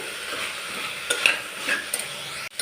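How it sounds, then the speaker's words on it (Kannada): Food fries in hot oil with turmeric as a spoon stirs the pan, giving a steady soft sizzle with a few scraping strokes and a sharp clack near the end, with no talking. "ಆಯಿಲಲ್ಲಿ ಸ್ವಲ್ಪ ಹೊತ್ತು ಈ ಥರ ನೀಟಾಗಿ ಫ್ರೈ ಮಾಡಿಕೊಂಡು ನೆಕ್ಸ್ಟು ಅರಿಶಿನ ಹಾಕ್ಬಿಟ್ಟು ಮಿಕ್ಸ್ ಮಾಡ್ಕೊತಾ ಇದ್ದೀನಿ"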